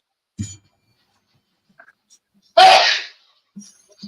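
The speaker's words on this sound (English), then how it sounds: "Looks like he sneezed to me" A single sharp, loud sneeze bursts out close by, surrounded by quiet with a few faint rustles before and after.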